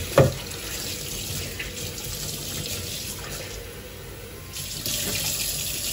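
Tap water runs steadily into a sink while a tilapia fish is washed under it, a continuous close hiss with a brief splash at the start.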